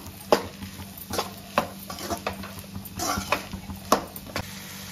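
Mutton liver pepper fry being stirred in a pan, a spoon scraping and knocking against the metal in repeated sharp strokes over a low, steady sizzle, close and moderately loud with no talking.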